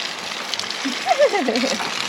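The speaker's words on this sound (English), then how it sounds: "Oh, I left the faucet out back on." Water runs from an outdoor faucet on the back side of a house, a steady close hiss with small splashes and gurgles, while a voice speaks briefly over it.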